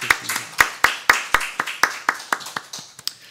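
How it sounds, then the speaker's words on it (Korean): A church congregation at a morning service claps in praise: about a dozen sharp, evenly spaced claps, close and clear, quickly fading to a few softer taps, with no voices over it. "우리의 모든 것 대신 하나님께만 감사와 찬양의 박수 드리겠습니다."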